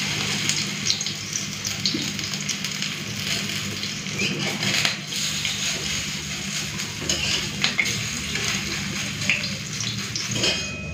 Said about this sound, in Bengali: তো উল্টে পাল্টে পোস্তর বড়াগুলো লাল করে ভেজে নিলাম